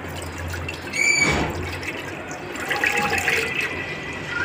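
Water is poured out of a cooking pot while making sheer khurma. A brief splash is followed by a longer, trickling pour in a kitchen.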